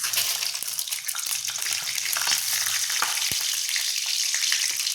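Mustard seeds and chana dal crackle and sizzle in hot oil, a steady dense frying hiss with scattered pops and a sharp crack near the end, close and loud.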